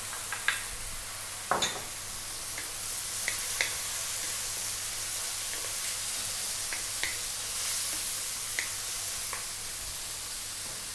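Chopped onion sautéing in a pan, a steady soft hiss of sizzling with occasional small clicks and stirring taps, quiet and even throughout with no voices.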